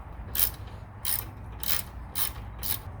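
A ratchet clicks in five short bursts while backing out T25 Torx screws holding the AC condenser to the factory intercooler of a SAAB 9-3, a crisp, close, evenly spaced ratcheting.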